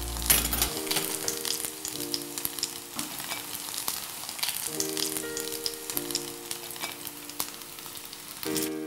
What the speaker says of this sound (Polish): wysmaży ostatnią porcję placków